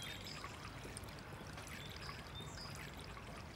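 Milk pours into a measuring jug in a kitchen, giving a soft, continuous trickling splash. It is faint and steady for a few seconds, with no voices over it.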